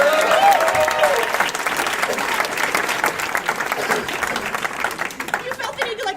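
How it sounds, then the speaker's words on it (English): An audience at a live show breaks into sustained applause, dense clapping that thins toward the end, with some chuckling and chatter mixed in and a voice speaking briefly at the start. "Everyone give her a round of applause"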